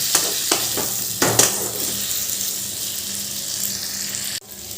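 Wet spice paste of turmeric, cumin and coriander hits a hot pan for a Bengali pumpkin dish, starting with sharp splattering bursts, then settling into a continuous close frying hiss without speech.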